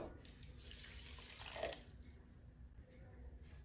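About half a cup of water is poured onto sugar in a kitchen: a quiet, close splashing pour lasting under two seconds, trailing off into faint room noise.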